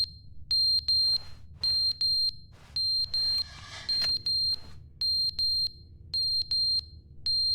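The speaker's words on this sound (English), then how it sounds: "Fire alarm." The fire alarm in The Stanley Parable video game sounds in repeated pairs and triplets of piercing high beeps with short gaps, steady and moderately loud over a low background hum, no one talking.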